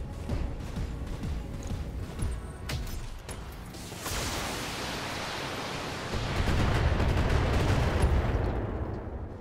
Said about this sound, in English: Fire. All weapons committed.